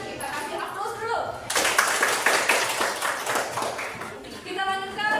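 An audience applauds a group's presentation at a school event, with a steady burst of clapping that swells after a spoken introduction and then fades as voices return over the end.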